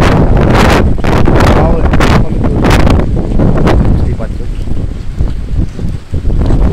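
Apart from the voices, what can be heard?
strong wind and rain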